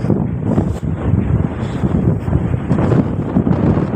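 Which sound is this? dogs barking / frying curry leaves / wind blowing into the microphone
wind blowing into the microphone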